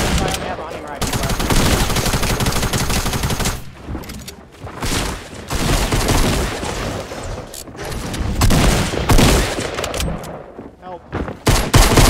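Rifle fire in Fortnite comes in repeated loud, close bursts and single cracks with short pauses between them, and a voice speaks briefly.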